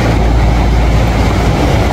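A train crossing a bridge produces a loud, unbroken low rumble and rattle, with no voices.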